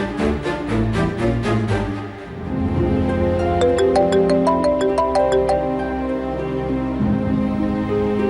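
A mobile phone ringtone plays a loud melodic electronic tune, with a steady repeating pattern of notes and bright chime-like tones partway through, sounding alone for several seconds in a Telugu TV serial scene.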